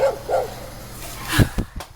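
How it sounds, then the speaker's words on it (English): A dog yips and whimpers, then lets out a few short, sharp barks in quick succession, fairly close. "My neighbor's dog is barking up a storm."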